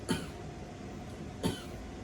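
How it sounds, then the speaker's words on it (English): Two brief, close coughs from one person, spaced roughly a second and a half apart, each a sharp burst with a slight throaty rasp in a quiet room, with no talking. "Okay, so little cough, please."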